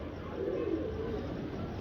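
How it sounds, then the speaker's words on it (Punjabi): A slate-grey pigeon in a small breeder setup gives a soft, low coo, faint and brief against a steady background hum, with no talking. "ਦੇਖੋ ਸਲੇਟਾ ਕਬੂਤਰ ਮਾਸ਼ਾਅੱਲਾ"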